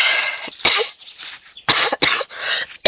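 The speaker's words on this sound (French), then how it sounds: "Et je tousse" A fit of harsh, raspy coughing close by, several bursts in quick succession with brief pauses between them.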